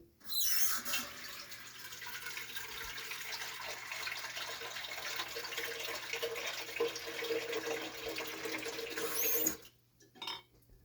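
Tap water runs steadily into a cooking pan for stewing cabbage. The stream is close and continuous for about nine seconds, then cuts off, followed by a couple of brief clinks.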